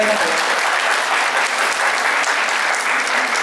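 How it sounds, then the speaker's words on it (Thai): An audience at a Thai school event for a TO BE NUMBER ONE idol contest bursts into sustained, loud, dense clapping that carries on evenly throughout. "ขอเสียงปรบมือให้ท่านด้วยครับ"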